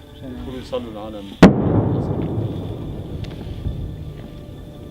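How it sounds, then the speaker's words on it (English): An artillery shell exploding nearby in Syria, a single sharp, loud blast that cuts off someone speaking and leaves a long rumbling decay, with faint distant pops afterward. "that noise you just heard was the sound of a shell exploding nearby"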